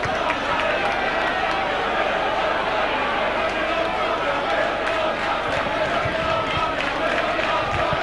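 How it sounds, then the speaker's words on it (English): Large rugby league crowd at a Leeds versus Doncaster match, a dense continuous roar of voices and chatter filling the ground, with a commentator talking over it throughout. "That's a great crowd here this afternoon."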